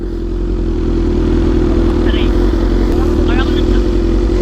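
Big bike motorcycle engine idling steadily and loudly nearby, a constant low rumble running throughout while people talk over it.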